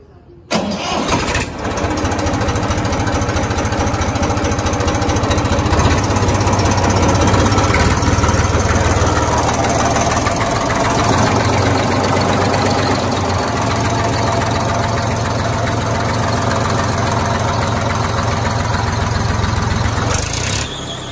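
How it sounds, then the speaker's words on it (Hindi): A Massey Ferguson 1035 DI diesel tractor engine cranks and catches, then settles into a loud, steady idle, a close rumbling chug that runs on with no speech. "मैं ट्रैक्टर अभी आपको स्टार्ट करके भी चेकआउट कराऊंगा"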